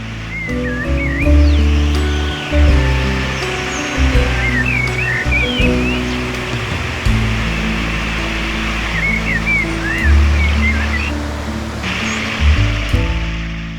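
Water rushing through a forest stream and waterfall in the monsoon-season hills of Himachal, a dense continuous roar heard close up, with faint bird calls above it.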